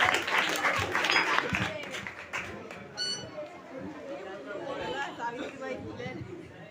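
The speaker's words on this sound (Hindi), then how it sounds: "तालियों के साथ स्वागत कीजिए सावित्रीबाई फुले का।" An audience at an Independence Day stage event claps loudly to welcome a performer, dense applause mixed with crowd chatter, then tapering to scattered murmuring and hubbub.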